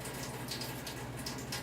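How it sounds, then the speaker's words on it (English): Water runs steadily from a kitchen tap while cookie pie crust is being made, a faint, continuous hiss with no talk over it. "got the water running over there"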